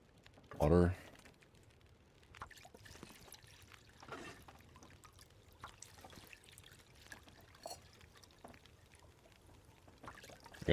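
Water poured into a pot in The Long Dark survival game, a soft trickling pour heard faintly beneath a player's talk, with a sharp knock near the start and light clicks scattered throughout.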